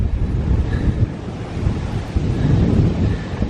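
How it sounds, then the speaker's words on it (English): Steady wind buffets a cyclist's microphone on a ride through southern France toward Aigues-Mortes, a loud continuous rumbling roar with gusty swells and no voices. "Thank goodness for the wind."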